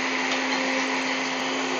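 An electric blender whirs steadily and loudly throughout, a constant motor drone with no pauses, as oil is added bit by bit to whip up mayonnaise for a chicken club sandwich.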